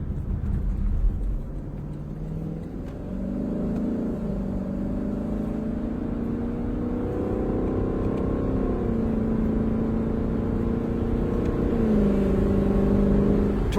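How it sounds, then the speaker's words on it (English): A car with a torque converter automatic gearbox revs up and downshifts. The engine note is loud and sustained, with pitch climbing and dropping through several shift changes over about fourteen seconds, and there is no talking. "I think the downshifts are my favorite. It's just a symphony."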